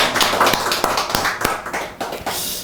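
A church congregation clapping in praise of God during a testimony service: sharp, close hand claps in a quick, slightly uneven rhythm, loud and alone with no voices over them.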